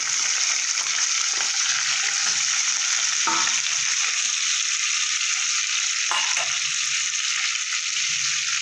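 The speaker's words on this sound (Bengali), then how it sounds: "এবার পেঁয়াজ আর ক্যাপসিকাম গোল গোল করে কাটা তুলে দিয়ে দেবো" Onion and capsicum rings hit hot oil in a pan while making an omelette, a loud, steady hissing sizzle with a couple of brief stirring scrapes, no talk.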